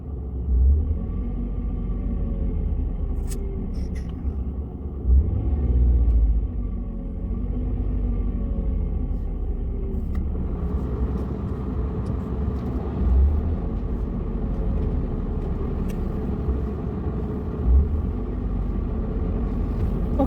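A manual-transmission car's engine idles as a low steady rumble inside the cabin, swelling into a few brief revs as the gas is pressed.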